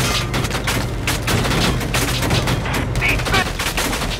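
Rapid gunfire fills a Valkyria Chronicles 4 railway battle, steady and dense throughout with sharp bursts layered over a continuous rumble, loud and close.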